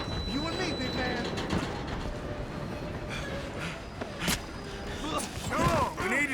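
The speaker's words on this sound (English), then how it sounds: "Come on, we need to stop this train." Train rolling on rails in Red Dead Redemption 2, a steady dense mechanical rumble with creaks and metallic clatter throughout, loud and continuous with a few sharper clanks and possible voices mixed in.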